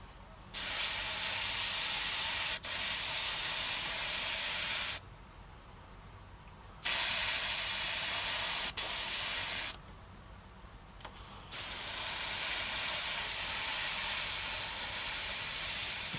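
An airbrush sprays weathering onto model railroad track in three long, steady hissing bursts separated by quiet pauses, close and fairly soft with no voices.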